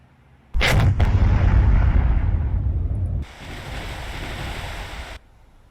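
Naval ship guns fire in a War on the Sea battle: a sudden loud boom followed by a second crack, a long rumbling roar that fades, then a steady wash of sea-like noise before cutting off.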